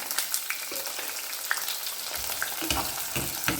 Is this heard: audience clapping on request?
no